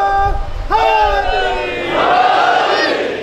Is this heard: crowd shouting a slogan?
yes